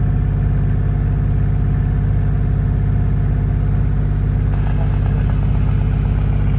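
Inboard diesel engine of a Moody 31 Mk 2 sailboat running steadily, a loud continuous low drone with a constant vibration and mechanical clatter throughout, no talking.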